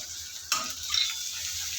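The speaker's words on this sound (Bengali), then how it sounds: "দিয়ে এগুলো ভালোভাবে ভাজা করে নেব" Oil sizzles steadily in a pan while frying for a prawn, pumpkin and greens curry, with a sudden crackling burst as something is stirred or added.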